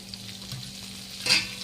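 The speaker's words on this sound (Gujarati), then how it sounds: "અને પછી બોળાને થોડીક વાર શેકાવા દેવાનો" A spice mixture for sour mango pickle roasting in hot oil, giving a steady low sizzle with a brief louder hiss and stir near the end.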